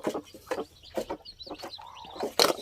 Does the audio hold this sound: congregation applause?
no